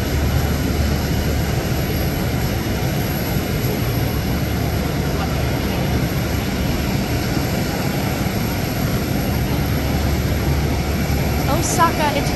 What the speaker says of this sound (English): Boeing 787. All Nippon Airways.